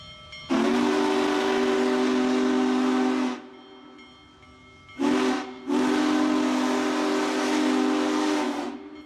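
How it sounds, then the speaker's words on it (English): The Union Pacific Big Boy steam locomotive blows its whistle in Wyoming during its 2021 tour: a loud, deep, chord-like blast that holds for about three seconds, then a short toot and another long sustained blast, with steam hiss underneath. "Growing up, my favorite steam locomotive was the Big Boy."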